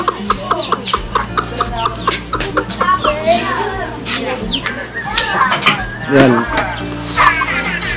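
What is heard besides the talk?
chickens clucking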